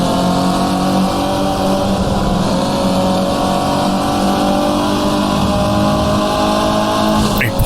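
Race car engines in the rFactor racing game roar at a sustained high pitch, a nearby car droning loudly and steadily alongside with a brief gear change near the end.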